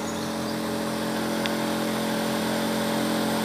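A motorized agricultural sprayer machine's engine runs steadily at full speed, a continuous loud drone with strong harmonic hum and no pauses, alone with no talking.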